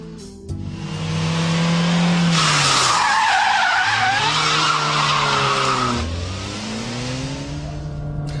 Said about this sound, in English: yank the handbrake, the rear wheels will lock as the back end slides round